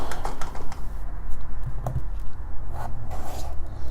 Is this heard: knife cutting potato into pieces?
yes